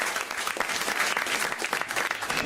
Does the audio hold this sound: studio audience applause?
yes